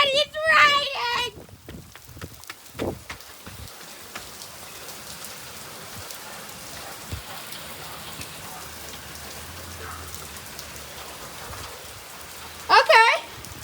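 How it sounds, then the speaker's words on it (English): Rain pours outdoors, falling steadily on the ground and surfaces in a constant hiss while children and others shout excitedly at the start and end. "Oh God, it's raining!"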